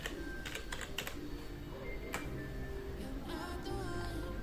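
Fast typing on a computer keyboard, a run of light close key clicks and taps across a few seconds over low background hum, with no talk.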